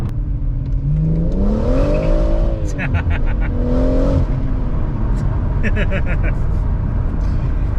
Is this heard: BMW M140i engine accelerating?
yes